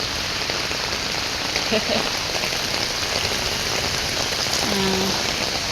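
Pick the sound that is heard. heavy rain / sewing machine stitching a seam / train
heavy rain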